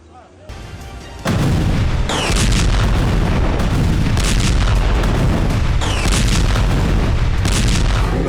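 Air strike explosions over Gaza in news footage: after a quieter opening, a sudden loud blast gives way to sustained heavy rumbling with repeated booming bursts, dense and continuous throughout.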